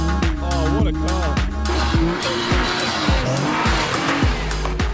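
A Nissan GTR driving hard in a back garden, its engine note rising and falling over repeated shifts while tires squeal and skid, loud and close throughout with no voices.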